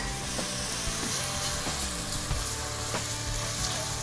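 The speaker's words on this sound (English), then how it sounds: "We've got about a half a cup of minced zucchini, so we'll get that in there." Minced zucchini fries in a corn chowder pot, giving a loud, continuous sizzle with faint stirring crackles on top, heard up close and alone without any speech.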